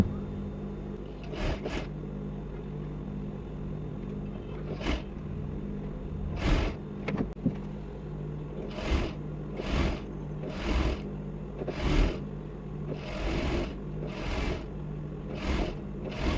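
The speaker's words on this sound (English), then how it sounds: "So you're just going to sew very close so that you have very tiny loop." Doubled fabric is stitched into a tiny button loop for a corset closure, with short repeated bursts of sewing at an irregular pace over a low, steady background hum.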